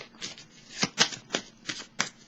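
A tarot deck being shuffled and cards drawn during a reading: about five crisp, papery flicking bursts at an uneven, quickening pace, close and fairly quiet, with no talking.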